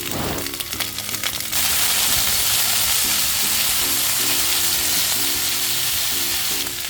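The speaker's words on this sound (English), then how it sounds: "we're going to make some sauté string beans and carrots, so we're going in with some olive oil" String beans, carrots and garlic sauté in olive oil, first with a few seconds of stirring and clatter, then a loud, continuous sizzle that stays close and steady with faint background tones.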